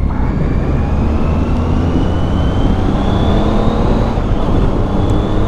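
Motorbike engine while riding along the coast in windy weather, a loud, steady drone with a gradually rising pitch as the bike accelerates, heavy rumbling wind underneath.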